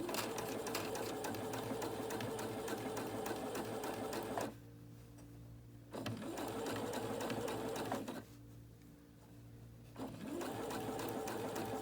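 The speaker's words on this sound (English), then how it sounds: "I'm going to sew a 1/4 inch" A sewing machine stitches a quarter-inch seam in steady, quiet mechanical whirring bursts, with two short pauses in between.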